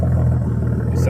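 A Nissan L28 engine, just started, idles with a steady, loud, close-up low rumble throughout, its idle slightly uneven and jerky.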